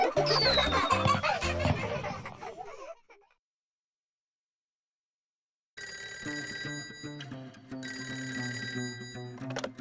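A telephone rings within a children's cartoon song, a bright electronic ring lasting about three seconds, followed by a pause of silence before busy musical backing resumes.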